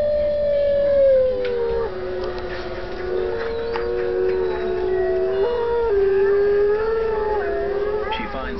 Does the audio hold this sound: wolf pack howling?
yes